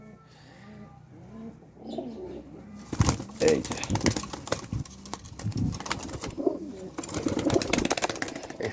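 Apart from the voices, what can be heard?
Dhakaiya pigeons cooing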